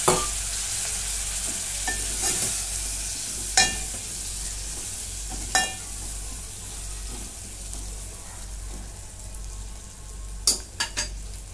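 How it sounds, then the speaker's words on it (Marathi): Drumstick pods are stirred into a sizzling pan while making sambar: a steady frying hiss runs throughout, with a few sharp utensil clinks and scrapes against the pan. "आता शेवग्याची शेंग घेतली मी, ते टाकून घेते."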